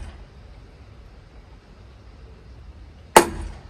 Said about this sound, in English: Centre punch.